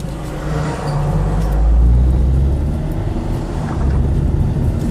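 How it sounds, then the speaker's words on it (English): Lorry passing on a built-up road while a car pulls over for it, a close, broad rumble that swells to a peak midway and then eases, with no talk. "I'm pulling over now to let this lorry come through."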